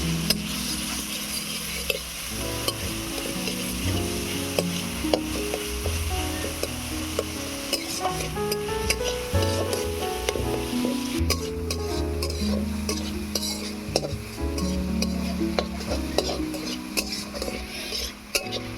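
Ginger and garlic paste fries in a pan, a low sizzle broken by repeated clinks and scrapes of a utensil stirring against the metal, with music running underneath throughout.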